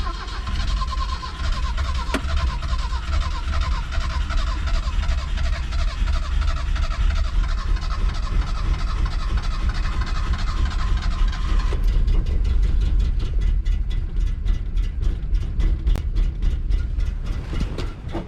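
A 1969 Datsun 521 pickup engine cold-starting on choke, running loud and rough and close by, with a steady uneven chug throughout that gains sharp rapid pulsing near the end.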